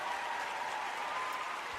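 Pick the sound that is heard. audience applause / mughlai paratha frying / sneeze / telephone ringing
audience applause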